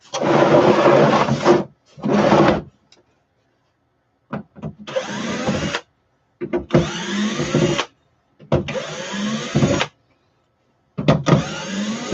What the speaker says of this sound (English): The drill is dying.